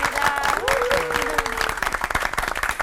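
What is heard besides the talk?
audience applause welcoming a pastor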